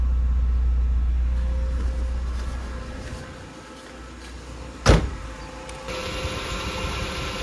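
A Nissan GA13 car engine that had a no-spark, no-start problem runs at a rough idle, a close, steady mechanical hum with one sharp click partway through, and no talking.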